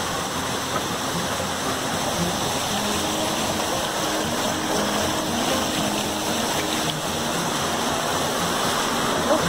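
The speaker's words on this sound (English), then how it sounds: "Water coming from somewhere back there." A waterfall beside a pool on a hiking trail, with water rushing and splashing in a steady, loud, continuous roar close by.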